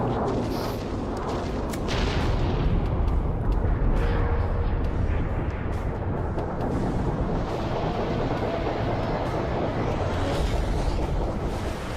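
Ships firing artillery during a Halo 3 battle, a sustained rumbling barrage of heavy booms and blasts that stays loud throughout, with no talk.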